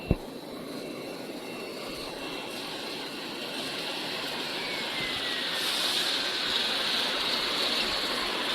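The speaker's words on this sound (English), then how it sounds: "You can see the water in bubbling." Water bubbling vigorously in the tank of a 500 kg quick-freezing French fry production line: a dense, rushing churn over a steady mechanical hum, loud and continuous after a brief knock at the start.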